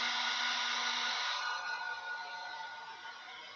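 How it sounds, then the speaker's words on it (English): A hair dryer blows steadily close by while drying miniature paint washes, a loud, even airy whoosh with a faint motor hum that eases slightly in level toward the end. "I do hit them with the hairdryer anyway."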